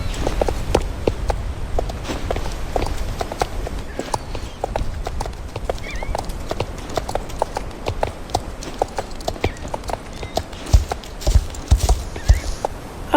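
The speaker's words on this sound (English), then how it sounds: "the owners said that I could ride her bareback to her field, so I did" A mare walks along at a steady pace while ridden bareback on the way to her field, her hooves clip-clopping in an even, continuous rhythm close by, with faint outdoor background noise and no talk.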